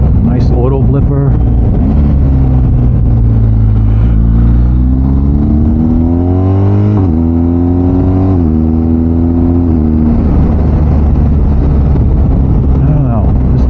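Ducati Streetfighter V2 motorcycle engine revs and drops through quick auto-blipper gear changes, the pitch rising in stretches and dipping between shifts, close and loud under constant wind roar with a rider talking over it.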